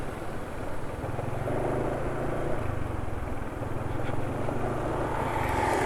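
A diesel engine running on Upsol Max Power SAE 40 diesel oil idles with a steady, even rumble and faint rhythmic knocking, a continuous mechanical hum with no talk over it.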